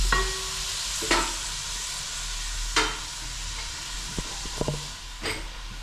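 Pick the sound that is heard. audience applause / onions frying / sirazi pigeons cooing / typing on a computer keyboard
onions frying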